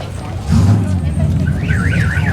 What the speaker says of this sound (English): Any more car alarms?